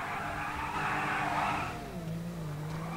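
A car speeds past at night, its engine roar and tire hiss swelling and then fading as the pitch drops, ending in a lower, steady hum.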